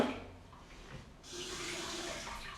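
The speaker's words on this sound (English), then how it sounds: "Just add a little bit of water." Water pours from a tap into a pan of hollandaise sauce, a soft splashing rush that starts quietly and swells to a steady, fuller stream partway through.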